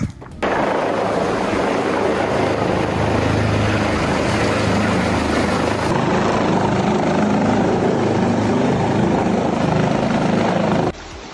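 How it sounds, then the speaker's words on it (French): A helicopter returns during an Italian rescue, its rotor a loud, steady, close roar that holds for about ten seconds and then cuts off abruptly, with no talk. "l'hélico qui revient"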